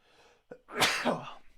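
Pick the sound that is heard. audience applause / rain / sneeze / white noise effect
sneeze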